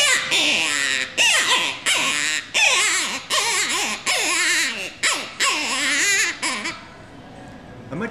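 A Carver Ruthless Rabbit predator call with a wide tone board and mylar reed is blown in rapid wailing, crying bursts, loud and close, imitating a distressed rabbit, trailing off at the end.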